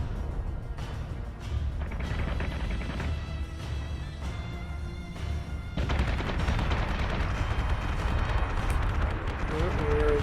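Missile barrage and flak fire in the Battlestar Galactica Deadlock space battle game, a rapid run of explosive thuds and rattling gunfire that swells louder midway, with someone talking over it.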